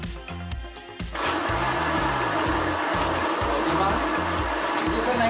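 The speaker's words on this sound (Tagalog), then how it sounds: "ikot na natin guys at kompleto na yung nasa loob ng ating blender" A kitchen blender whirs loudly and steadily, blending a watery cucumber smoothie made for a gout-friendly diet, starting with a few quick rhythmic pulses before settling into a constant high-speed grind.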